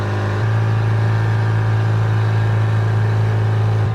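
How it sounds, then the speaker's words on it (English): A 1973 Toyota Hilux pickup with oil and coolant leaks drives at steady speed, its engine droning loudly and evenly from close by inside the cab, with no talking. "This thing is maintaining speed rather well. It's about as loud as a race car."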